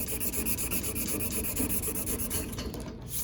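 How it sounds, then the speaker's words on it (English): Sandpaper rubbed by hand in one direction over a car body panel, a close, steady, dense scratchy rasp that keeps going without pause. "I'll grab some sandpaper and I'll just sand it in one direction, right over the area"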